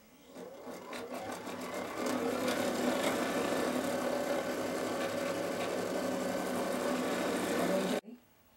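A sewing machine stitches casings on an apron, running in one steady continuous buzz at moderate level before stopping abruptly near the end.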